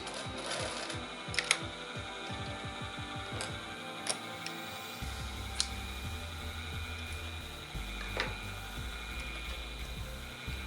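A domestic sewing machine stitches fabric along the presser-foot width, its motor whirring in steady bursts with rhythmic ticking needle strokes, stopping and restarting several times, close and with no talking.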